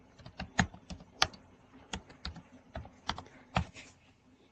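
Fingers type on a computer keyboard during spreadsheet work, producing irregular sharp clicks and taps close by with short pauses between bursts, quiet and without talk.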